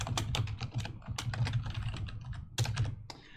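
A chmod command is typed on a computer keyboard in a Linux terminal while writing a Bash script. The quick, uneven keystrokes are close and clear, with short pauses between bursts of clicks.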